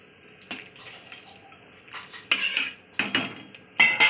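Pieces of fish dropped into a cooking pan with tomato and vegetables for a Bengali curry, several sharp clattering contacts and a metallic scrape, in short bursts over a quiet background.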